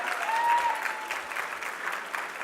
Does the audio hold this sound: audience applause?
yes